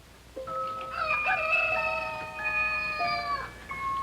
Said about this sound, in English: beckoned by a rooster somewhere, doing his thing